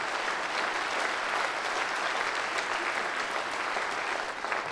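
After a card magic trick at a comedy-magic show, a dense, even burst of audience applause fills the room, sustained and fairly loud throughout.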